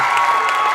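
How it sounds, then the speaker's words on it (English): A concert audience at a songwriter night claps and cheers for the performers, a short burst of full, even applause. "Can I have one more round of applause for all the performers?"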